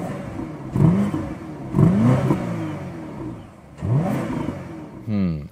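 A petrol V8 SUV engine fitted with a particle filter revs hard through its exhaust in several separate bursts, each climbing sharply in pitch before dropping back to a rumbling idle. The revs sound close and loud, with no speech.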